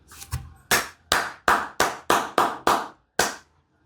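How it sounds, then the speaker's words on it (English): Eight slow, separate hand claps with short gaps between them, sharp and close, preceded by a faint softer tap, alone with no voices. "clap for us"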